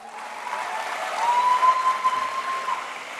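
An audience at a Golkar party gathering gives steady applause, a dense wash of many hands clapping that holds for a few seconds, moderately loud from a sizable crowd.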